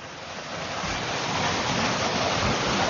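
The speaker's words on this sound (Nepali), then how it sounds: "अत्यन्त फोर्सका साथ गइरहेको छ पानी" Water from the number 4 dam of the Khardu drinking-water project rushes forcefully after rain, a loud, steady roar of torrential flow that swells slightly and holds constant with no voices.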